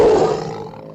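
A jaguar's deep roar bursts out loudly at close range near a sheep corral, then trails off in a single rough, rumbling swell.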